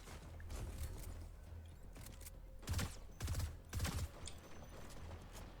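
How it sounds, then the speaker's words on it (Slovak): Gunfire in the video game Fortnite: a few short bursts of shots in quick succession, fairly close, over low game background noise with no talking. "Už sa tu strieľa."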